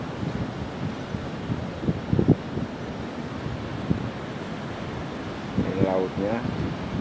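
Coastal sea and wind near the Cilacap power plant: steady buffeting wind noise on the microphone over a low wash of surf, with a few louder gusts and bumps.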